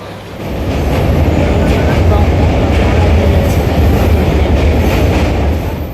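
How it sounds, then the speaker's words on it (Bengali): Riding aboard a moving train, a loud steady rumble of wheels and carriage noise fills the space, rising in at the start and holding constant, with faint voices nearby. "এই যে ট্রেনে আমরা উঠে গিয়েছি"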